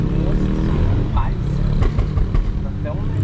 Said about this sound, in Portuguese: O escapamento desse carro ficou perfeito, velho.